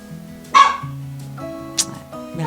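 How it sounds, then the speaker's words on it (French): Dogs inside a house let out several sharp, close barks and yips at irregular intervals over a steady low hum. "à chaque fois qu'il y a un truc qui bouge dans la maison, ça aboie"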